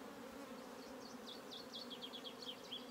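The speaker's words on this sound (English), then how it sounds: "So I'll shake these nurse bees off here" Honey bees buzzing around an open nuc colony during a spring split, a steady layered hum with individual bees zipping past close by, continuous throughout.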